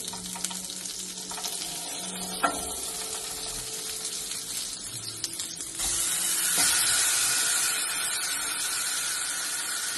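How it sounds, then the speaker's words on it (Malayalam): Chicken pieces for Alfam are laid into a hot pan, and a steady sizzle swells to a louder, fuller hiss partway through. Faint clatter sits underneath. "ഈ പരട്ടി വെച്ച ചിക്കൻ നമുക്ക് ഇതിലേക്ക് ഇട്ട് കൊടുക്കാം."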